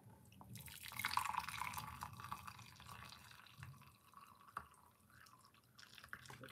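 Pineapple ginger green tea pours and drips close by into a glass, a steady liquid trickle loudest early on that thins and tapers over several seconds, with no talking.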